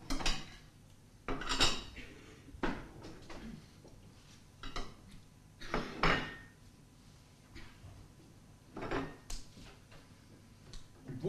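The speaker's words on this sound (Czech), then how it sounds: "Ten příborník odsuň." A wooden cutlery cabinet shoved across a stage floor, its cutlery and dishes rattling and clinking in repeated bursts of metallic jangling with thumps between them, close and moderately loud.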